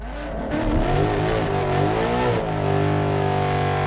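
A 2018 Ford Mustang GT engine, naturally aspirated with bolt-on upgrades, revs hard and holds at a loud, steady roar with harmonic whine during a burnout, continuous throughout with no talking.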